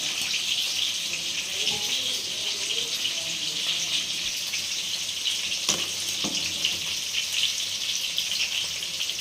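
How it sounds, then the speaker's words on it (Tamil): Water being added to a pumpkin chicken curry in a Tamil home kitchen, a soft continuous trickle and bubbling sizzle with a couple of faint clinks, fairly quiet and without talking. "அது கூட கொஞ்சம் தண்ணி கலக்கி அதிலே ஆட் பண்ணிக்கலாம்."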